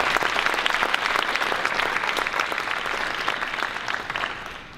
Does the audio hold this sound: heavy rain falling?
no